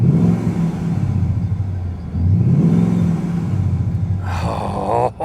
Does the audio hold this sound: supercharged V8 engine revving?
yes